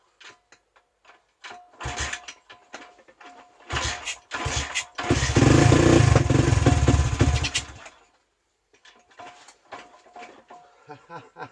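A pit bike engine being started with the choke on: a series of short kick or cranking bursts, then a loud sputtering run for a few seconds that cuts out, followed by more brief mechanical clatter, close and alone.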